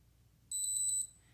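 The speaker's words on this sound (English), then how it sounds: "This is the alarm" A budget Beeasy smart watch sounds its alarm as a quick run of about five bright, high beeps in a short burst, close and clear over a quiet background, with no talking.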